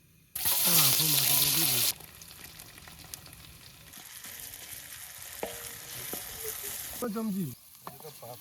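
Maggi noodles cooking in a large pan at a riverside night campsite, a continuous close frying hiss with stirring scrapes, while people talk intermittently over it.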